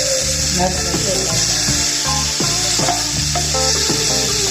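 Mushrooms sautéing in a pan for Chettinad mushroom gravy, a steady close sizzle with scraping stirs throughout, under a loud tonal music bed.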